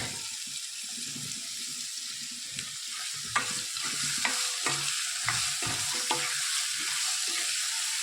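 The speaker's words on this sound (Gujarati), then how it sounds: "સ્વાદ અનુસાર મીઠું, ગરમ મસાલો, ધાણા જીરું સરસ બધું મિક્સ કરી લઈએ." Salt, garam masala and coriander-cumin powder get stirred into ivy gourd and potatoes in a pan, with gentle frying hiss under scattered spoon clicks and scraping strokes, close by.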